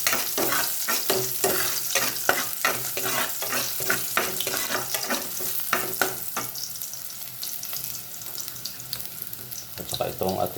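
Garlic and onion sautéing in a pan for chicken sotanghon soup, a loud continuous sizzle broken by repeated scraping and stirring strokes of a utensil against the pan, with brief clatter near the end.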